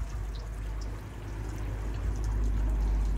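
A continuous stream of water pours and soaks into a potted plant nearby, with a low rushing wash that grows slightly fuller toward the end.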